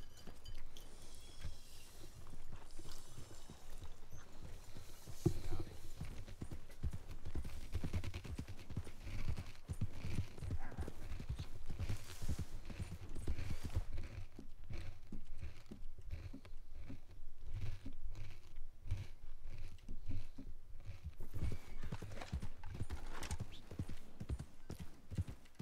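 Horse hooves clip-clop steadily in a western-themed video game, a continuous rhythmic trot with soft ambient background and no talking.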